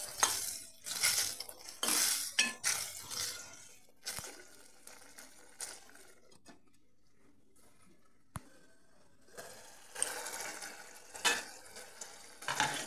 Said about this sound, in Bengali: এবারে মশলাটা পুরো ঘন হয়ে এলে এর মধ্যে ভেজে রাখা সবজিগুলো দিয়ে